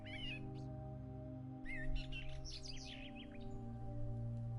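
Bird chirps and tweets in short bursts over a steady low hum, moderately close, with a quieter stretch in between.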